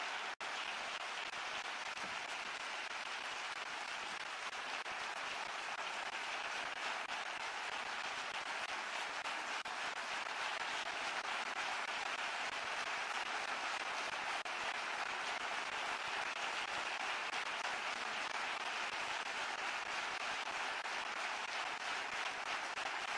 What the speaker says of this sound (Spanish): Un aplauso tan auténtico como tú y gracias por ser tan valiente.